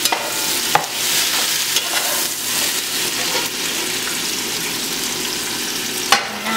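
Cabbage fries in a big pot while being stirred, giving a steady, loud close sizzle with a few sharp scraping knocks of the spoon.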